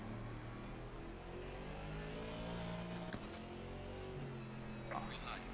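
GT4 race car at Bathurst in Assetto Corsa Competizione, a throaty engine droning and revving steadily under a voice, with a brief louder burst near the end.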